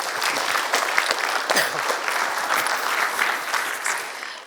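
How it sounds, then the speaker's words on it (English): Audience applause at the close of a scientific talk on acidosis, a dense, steady wash of many hands clapping that holds loud for several seconds before starting to fade. "So, round of applause."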